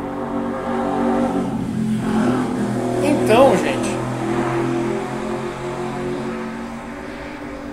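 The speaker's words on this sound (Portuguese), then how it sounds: "Vai, moto, vai embora, moto." A motorcycle passes nearby, its engine swelling and fading against a steady background while someone talks throughout.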